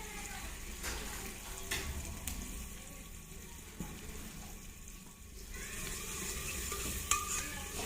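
A ladle turns mustard greens saag in a pan, giving a steady soft scraping and stirring over a faint constant sizzle, with a few sharper clinks of metal against the pan.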